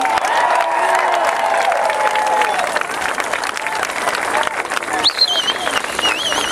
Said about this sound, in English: Please give a huge round of applause to Congressman Neil Abercrombie.